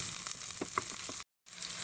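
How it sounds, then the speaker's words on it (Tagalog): Garlic and onion sauté in a hot pan for a pancit canton dish, giving a steady close sizzle with a few small pops and spatters. It cuts to silence for a moment partway through, then the frying resumes. "Igisa natin itong bawang,"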